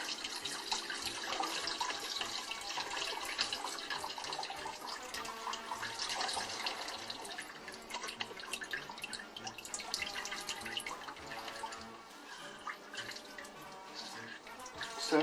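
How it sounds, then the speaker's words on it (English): Makgeolli, Korean rice wine, drips and trickles from a squeezed mash bag into a bowl, a dense, close stream of wet patters and splashes continuing steadily throughout. "you can just let it drip into the bowl like that, or you can manually squeeze it like this"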